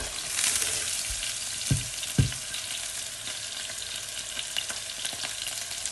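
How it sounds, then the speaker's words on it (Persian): Ingredients for an Iranian lentil soup sizzle and fry steadily in hot oil, with a few sharp stirring knocks partway through; close and continuous, no talking. "باز یه ذره تفتش میدم با روغن."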